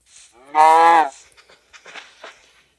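A single loud, drawn-out cow moo from a video game rings out clearly, followed by faint clicks and soft background noises.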